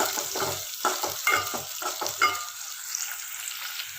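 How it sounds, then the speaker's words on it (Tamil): Small onions and curry leaves fry in a pan for mutton varuval, with a run of quick spatula stirring scrapes over a sizzle in the first half that settles to a steady low hiss, close up and without speech. "வெங்காயம் நல்லா வதங்கி வரட்டும்."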